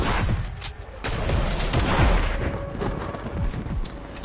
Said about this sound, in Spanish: Vamos a meter un tirito, rápido.